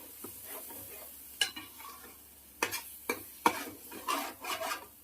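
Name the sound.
fish curry with ginger garlic paste frying in oil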